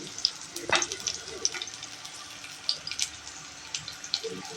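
Sliced garlic crackles in hot oil in a pan for papaya chutney, with sparse sizzles and small pops close by over a quiet background.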